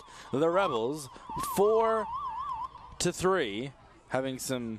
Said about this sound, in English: siren difficulties, it sounds like. It's not the cops coming, it's just Lacrosse.